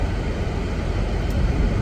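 Steady broadband blowing and rumble inside a car with the air conditioning running to cool it down, a continuous even whoosh with no talk.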